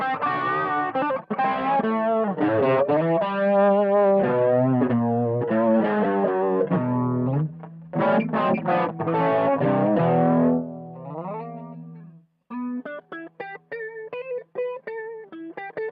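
Electric guitar played through an Ammoon PockAmp headphone amp with built-in effects, sounding distorted and chorused with sustained chords and phrases, then shorter plucked notes after a brief pause.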